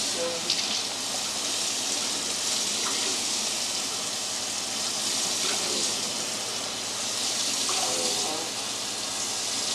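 Steady cold water gushing from a kitchen tap into a measuring vessel for bread dough, a continuous loud splashing rush that holds for the whole stretch.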